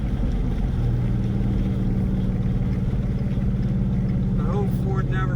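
A Ford manual V8 coupe cruising on a highway in overdrive, its engine a steady low drone with continuous road and cabin noise, and a voice briefly speaking near the end.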